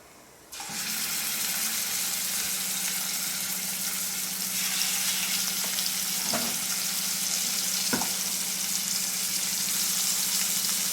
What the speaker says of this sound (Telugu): ఇప్పుడు చికెన్ పీసెస్ ఇందులోకి పోతాయి.